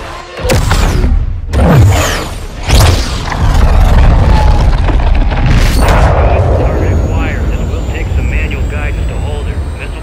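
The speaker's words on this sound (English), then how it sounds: "Missile is ready for immediate delivery" A missile strike in the Call of Duty video game hits with several loud, booming blasts and a heavy rumble that rolls on underneath, like jet roar and falling debris.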